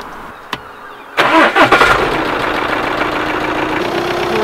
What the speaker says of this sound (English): I want to just get the engine running for a bit and get the alternator pumping that battery